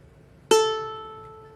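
Open first string of a ukulele plucked once, a single clear bright note with a sharp attack ringing and slowly fading, close and alone.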